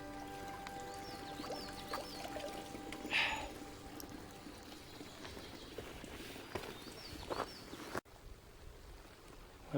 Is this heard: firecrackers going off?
no